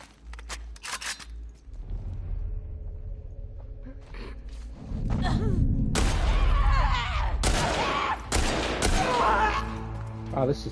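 Enemy gunfire in The Last of Us Part II, with sharp bursts of shots, some rapid and clustered, rising louder partway through against a background of game noise and clatter.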